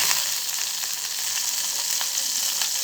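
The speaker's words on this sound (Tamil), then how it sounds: "எண்ணெய் காஞ்சிருச்சு. நான் இப்போ அந்த கடுகு உளுந்தம் பருப்பு இதை நான் சேர்த்துக்கிறேன்." Mustard seeds, urad dal and dried chillies sizzle and crackle steadily in hot oil, a close, dense frying hiss with small pops scattered throughout.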